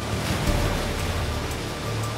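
Rough, pounding open-sea waves seen from a water-scooping CL-215 plane, a loud, continuous broadband surf roar with gentle swells in level and no voices.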